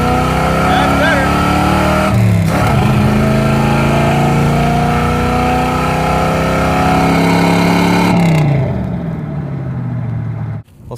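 A Roadkill project car roars through a timed acceleration run from about 25 mph, the engine loud and close with rising pitch for several seconds, then it backs off and fades.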